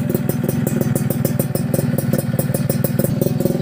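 A 1999 Yamaha F1ZR two-stroke motorcycle engine idles close by, a steady crisp, rattly putter with fast regular firing pulses throughout, no talking over it.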